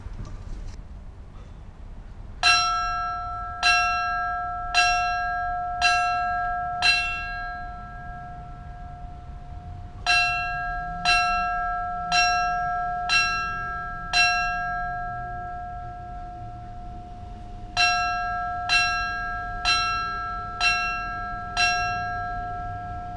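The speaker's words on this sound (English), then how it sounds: "we will be ringing the bell once for each of the 20 years that has passed" A bell is rung by an honor guard at an outdoor 9/11 20th-anniversary remembrance, sounding clear, sustained metallic strikes in measured groups of five, five and four, each ringing out and decaying over a low background hum.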